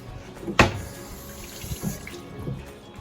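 Tap water runs over peeled carrots in a kitchen sink. A brief splash is followed by quieter running and trickling water.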